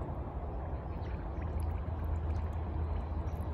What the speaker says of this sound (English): you hear the bubbles